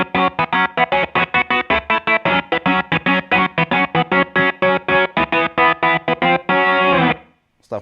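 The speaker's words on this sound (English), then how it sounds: "Another cool way to use the kill switch is if you put some pitch in it and distortion and stuff" Electric guitar played through a GTC Sound Innovations Revpad wireless multi-effects unit with pitch shift and distortion, a kill switch chopping the tone into rapid, evenly stuttered bursts that end in one sustained distorted chord and a brief final stab.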